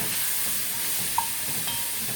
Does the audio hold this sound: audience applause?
no